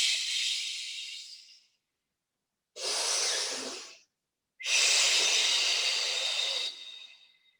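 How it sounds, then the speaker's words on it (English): Three long, audible breaths during a Pilates exercise, each a breathy hiss close to the microphone, separated by short silent pauses, the last breath the longest. "Listen to the breathing"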